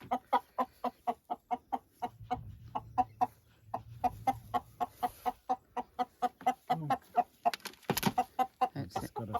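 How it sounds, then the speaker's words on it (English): An Araucana rooster, a skinny long-tailed bird, clucks in a quick run of short, sharp calls, close and fairly quiet, with a brief louder squawk near the end. "That's one of the Araucana roosters."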